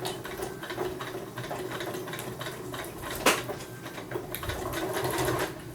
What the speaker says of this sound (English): I'm just going to take this over to my sewing machine real quick, and I'm going to stitch down just a couple of stitches to hold it all together